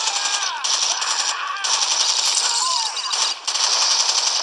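Rapid continuous automatic gunfire in the video game Gangstar Vegas, loud and bright with brief gaps between bursts over a steady game soundtrack.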